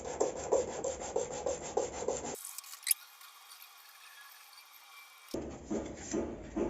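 Sandpaper held in both hands rubs back and forth around a PVC pipe in a cramped plumbing repair, giving a close, rhythmic scratchy rasp in repeated strokes, with a brief quieter gap midway.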